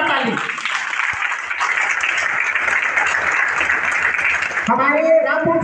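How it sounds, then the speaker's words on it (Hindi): Applause from an audience at a welcoming ceremony where a member of parliament is garlanded, a broad steady roar of many hands clapping for about five seconds before a voice begins speaking at the end. "जोरदार ताली।"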